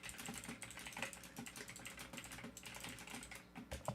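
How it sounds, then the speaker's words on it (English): Steady typing on a computer keyboard, rapid irregular clicks continuing throughout at a close, quiet level with no talking. "Mute my mic so you don't hear the keyboard."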